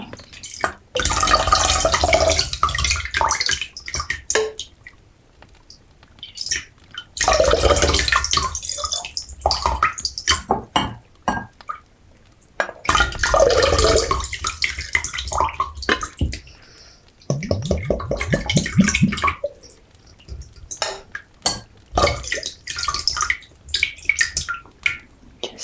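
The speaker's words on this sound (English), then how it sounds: "I need to fill a vessel with water." Water poured into a vessel during a soft-spoken apothecary potion-making roleplay, heard as several close, splashing bursts of filling separated by quiet pauses.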